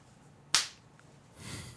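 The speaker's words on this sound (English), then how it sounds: "That was a good high five." A single sharp high-five hand clap, close and crisp, ringing out once against a quiet room before a soft rustle follows.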